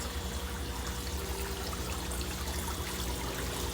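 Water trickling and splashing through an aquarium fish tank filter, a steady, even stream of liquid noise close by with no pauses and no voices over it.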